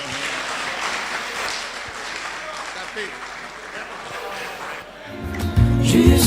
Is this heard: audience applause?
yes